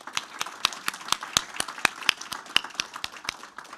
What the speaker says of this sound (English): let's have a round of applause for Woodfield Elementary and Montgomery County Public Schools.